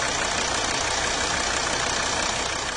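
Running on vegetable oil instead of diesel, a Chevy truck's diesel engine idles with a smooth, even drone that sounds slightly quieter, steady and close, with no voices over it.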